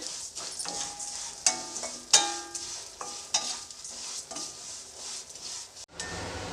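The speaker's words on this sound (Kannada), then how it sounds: "ಶಾವಿಗೆನ ಮೀಡಿಯಮ್ ಫ್ಲೇಮಲ್ಲಿ ಬ್ರೌನ್ ಕಲರ್ ಬರೋವರೆಗೂ ಸ್ವಲ್ಪ" Vermicelli frying in ghee over a medium flame, a bright steady sizzle with repeated metallic scrapes and taps of a spoon against the pan, ending in a short break and a duller, quieter stretch.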